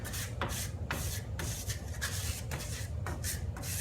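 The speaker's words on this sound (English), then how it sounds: "just kind of manipulate that with the trowel all different directions" Steel trowel scraping and smoothing wet Venetian plaster in a matte finish, a steady rasping rub with repeated strokes roughly every half second, close and continuous, with no talking.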